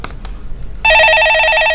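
In a Korean stock-market call-in broadcast studio, a telephone begins ringing partway through with a loud, steady electronic warbling trill that continues to the end. Faint clicks come just before it, and no one speaks during the ring.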